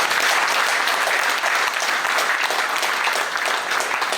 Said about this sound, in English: it is expedient on our part to applaud His Excellency